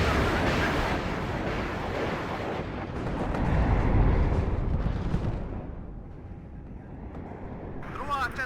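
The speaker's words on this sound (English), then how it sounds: "There are 2 more rocket strikes. I'm gonna put another one on that crossroad." Rocket strikes exploding in the video game WARNO: a dense, continuous rumble of overlapping blasts that swells and fades over several seconds, with a voice talking over it.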